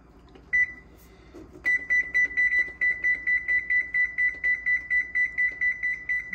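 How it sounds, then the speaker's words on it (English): A kitchen timer beeps in a steady, evenly spaced run of sharp electronic tones after a couple of brief initial chirps, fairly close and loud over a quiet room background. "Let me set a timer for that."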